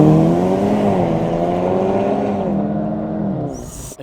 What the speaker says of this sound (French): On va demander à Ayrton s'il veut refaire un launch control là vite fait